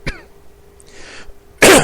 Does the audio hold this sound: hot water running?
no